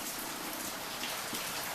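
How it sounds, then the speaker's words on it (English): Rain falling outside, a faint steady hiss of drops heard from indoors, even and unbroken throughout with no voices. "yep, it's raining outside right now."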